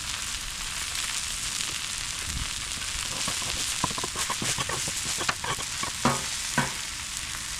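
Crab cakes and vegetables frying at a backyard cookout, a steady close sizzle with scattered pops and the clatter of stirring and turning throughout, no voices.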